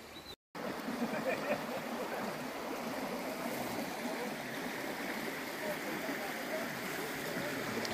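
A river runs right beside a woodland bivvy camp with a railway line nearby, its steady broadband rush continuous and fairly close after a brief dropout at the start, with no talk over it.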